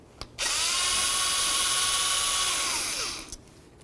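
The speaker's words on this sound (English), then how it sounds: "You want to remove these 3 mounting screws." A power drill whines steadily for about three seconds, close and loud, while backing out the window regulator motor's mounting screws on a 1997-05 Lexus GS. It winds down briefly at the end.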